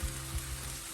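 A soft, steady sizzle of spice paste with coriander powder frying wetly in a pan with a little water, low bubbling underneath, continuous and close for a brief moment.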